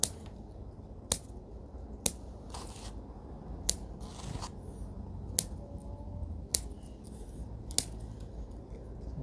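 Pruning shears cut jangsumae plum tree branches in about eight sharp, crisp snips spaced roughly a second apart. The snips are close and distinct over a steady low background hum, with no talking.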